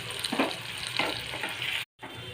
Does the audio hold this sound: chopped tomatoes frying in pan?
yes